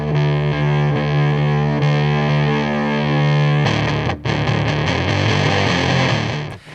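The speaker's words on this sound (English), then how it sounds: "It gives you that very gritty, low-focused sound that you might want" Drop-tuned electric guitar through an EarthQuaker Devices Acapulco Gold distortion pedal: a loud, gritty sustained low chord ringing out, then chugging palm-muted riffing.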